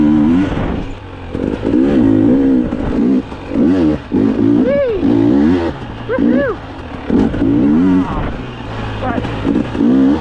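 An off-road dirt bike engine revs repeatedly on an Ontario trail ride during a springtime event, loud and close, with rising and falling bursts of throttle between brief idle dips and no talking.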